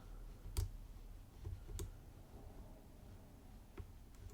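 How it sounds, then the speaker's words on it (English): A lock pin clicks while a LIPS Octo high-security dimple lock is picked: a few faint, sharp ticks, two distinct ones early and another near the end, over quiet room hiss. "Oh, little click on pin 2 there."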